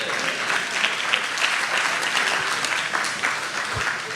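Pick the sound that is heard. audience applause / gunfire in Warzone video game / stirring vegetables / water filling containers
audience applause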